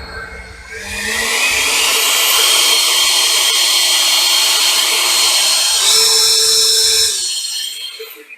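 Ego 650 CFM battery leaf blower spinning up and running on high, a loud, steady whirring roar with a whining tone that rises briefly near the end before winding down.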